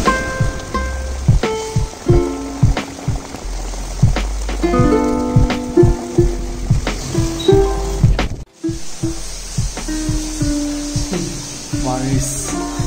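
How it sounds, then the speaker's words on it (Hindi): Heavy rain falls outside in a steady, dense hiss that runs through the whole stretch, mixed with voices and tonal background sounds. "बाहर इतना तेज बारिश हो रहा है"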